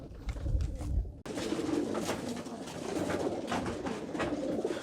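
Many pigeons cooing and scuffling inside a crowded trap training box, a loud, continuous mass of calls and wing flutters close by.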